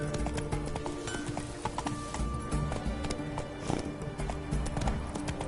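Roach, Geralt's horse in The Witcher 3, gallops with quick, close clip-clop hoofbeats over a busy game soundscape, with a brief whinny-like sound in the mix.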